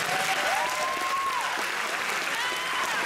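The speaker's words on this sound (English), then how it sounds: "so a big round of applause" Applause from the crowd at a NABBA Universe 2017 bodybuilding contest, steady clapping throughout with a faint whistle and some indistinct crowd noise.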